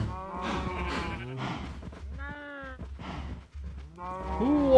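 Cows in the video game Minecraft moo repeatedly, several drawn-out, wavering calls overlapping one after another at close range.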